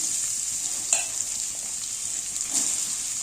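Mustard seeds, cumin, onions, chillies and potatoes fry in a pan with a steady close hiss and sizzle, broken by a couple of quick stirring scrapes, no voices.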